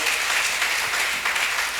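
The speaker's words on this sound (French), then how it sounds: "On peut l'applaudir." Steady congregation applause filling a church service, dense and continuous at close range throughout, with no talk over it.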